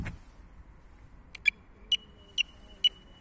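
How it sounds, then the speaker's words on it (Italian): On a Windgoo B20 electric bike, the turn signal indicator gives four short, evenly spaced beeps about half a second apart, crisp and close over quiet background noise. "il beep è quando avete inserito la freccia"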